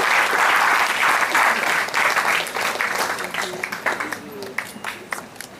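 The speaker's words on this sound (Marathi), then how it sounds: "एकदा जोरदार टाळ्या" Loud sustained applause from an audience at a college welcome ceremony, dense clapping that thins toward the end into scattered individual claps.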